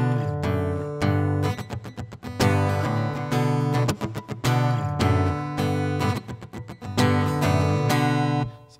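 Acoustic guitar strums chords from a song in a steady rhythmic pattern, clear and close, with no talking.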